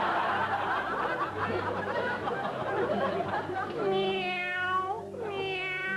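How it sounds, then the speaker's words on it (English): Cat-like meows, two rising harmonic calls near the end, play in a comedy Christmas tale where sheep turn out to be cats, over a busy, noisy background. "Meow, meow, replied the sheep"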